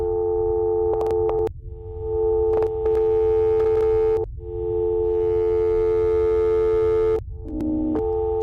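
A steady electronic phone line tone hums loud and continuous, broken by short gaps and clicks, with the pitch shifting slightly near the end; no one speaks.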